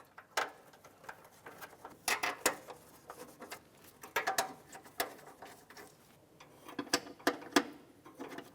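Cowl mounting bolts being snugged up on a 2004-2006 Scion xB, heard as faint, scattered ratcheting clicks and metallic taps in short bursts in a quiet space.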